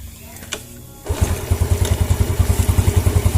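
A motorcycle being started during a check of a faulty voltage regulator that leaves the headlight dim, a brief crank and then the engine catching into a steady, thumping, close idle with a regular pulsing beat.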